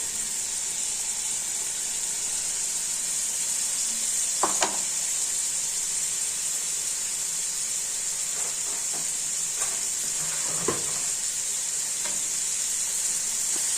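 Soup vegetables, turnip, carrot and leek, being stirred in a cooking pot: a constant steady hiss and sizzle with a few soft scraping knocks from the stirring utensil.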